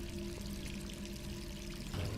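Tap water runs steadily into a sink in Resident Evil 3, a faint, continuous pouring hiss with a tonal hum, ending in a short change near the close.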